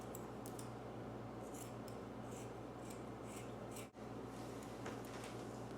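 Scissors snip through old sweater sleeves laid on top of each other, repeated close cutting strokes over a steady background hum, with one brief pause.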